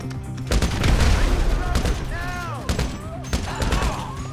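In GTA 5, bursts of gunfire and a deep explosive rumble fill a close, loud firefight, while voices shout over the shooting throughout.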